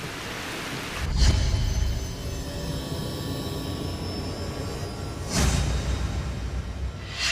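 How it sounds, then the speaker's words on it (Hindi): Steady rain hisses throughout during a traffic jam, with two louder low rumbles swelling briefly, like thunder or passing traffic, over the constant downpour. "बारिश की वजह से ट्रैफिक बहुत जैम हो गया है।"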